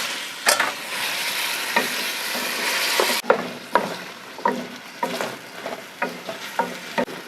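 Large bone-in beef pieces stirred into a sizzling tomato masala in a pan, with a steady frying hiss broken by repeated scraping strokes of a spoon, close and moderately loud.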